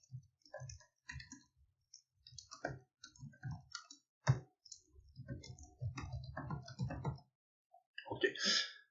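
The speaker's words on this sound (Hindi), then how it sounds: "डेमी टेक्स्ट ऐसे ही मैं टाइप कर रहा हूँ।" Fingers tapping keys on a computer keyboard while entering dummy text into Microsoft Word, heard as an irregular run of close, crisp clicks and short bursts, growing denser toward the end, with no talk.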